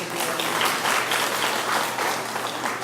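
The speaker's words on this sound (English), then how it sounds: "Clap for her so she can get here." An audience claps for a girl volunteer walking up to the front, a dense, even round of applause that carries close and steady for a few seconds.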